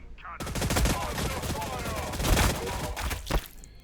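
Kasrkin troops of the Astra Militarum in the video game Warhammer Battlesector fire in dense, rapid bursts, a loud, sustained clatter of gunshots punctuated by sharper cracks, with game voice lines mixed in.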